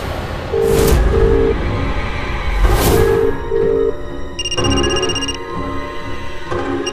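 A telephone rings in repeated short double bursts, loud and close, with a higher electronic tone joining partway through.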